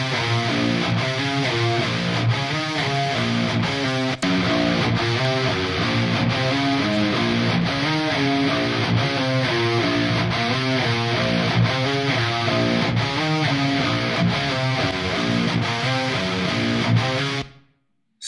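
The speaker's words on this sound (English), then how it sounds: "So the guitars sound like this." Heavy distorted metal rhythm guitars through Bad Boy and 5150 amps into a Marshall vintage cabinet miked with an SM57, chugging in a tight, steady, loud riff for about seventeen seconds before cutting off abruptly.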